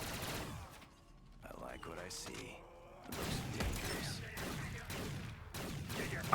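Rapid submachine gun bursts crackle in a French-language shooter video game, several short volleys at moderate distance mixed with thumps and mechanical clicks, while players talk over the action.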